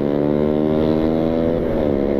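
Loud, steady engine drone of a motorcycle on a busy road, Jalan Raya Bogor near Cibinong City Mall, with layered harmonic whine that shifts in pitch late on as it passes close by.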